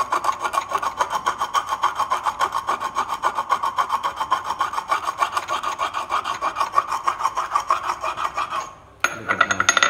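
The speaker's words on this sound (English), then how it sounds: "we use the stone for sand down to make it smooth" A stone rubs back and forth over a hand-crafted wooden box in a steady, rhythmic rasp, close and loud, with a brief pause near the end before the scraping resumes.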